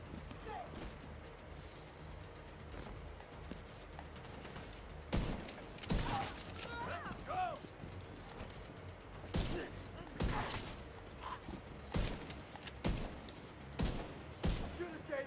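Gunfire in The Division 2 while using the Virginian 1886 rifle build: fairly quiet background combat with several sharp shots and scattered bursts spread through the clip, with game voices talking over it.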